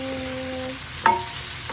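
Pork spare ribs fry in a pan for buttered garlic ribs, a steady low sizzle with a single sharp clink of a utensil midway, no voices.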